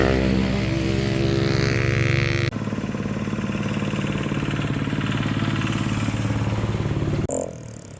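A vehicle drives along a road on Flores with a steady, loud engine drone and rattle, shifting in tone partway through before easing off at the end.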